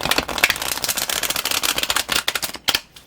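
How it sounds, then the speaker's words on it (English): A deck of tarot cards shuffled close up, a rapid run of crisp snapping riffles with brief pauses, loud and alone with no talking. "they have quite a bit of snap to them, so I won't be shuffling them too much on camera"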